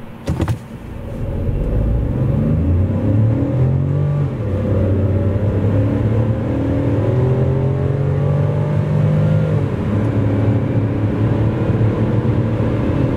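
An MG ZS with a 1.0 turbo three-cylinder petrol engine accelerates hard from a standstill, its loud engine note rising steadily through the gears, heard from inside the cabin with a continuous drone and no talking.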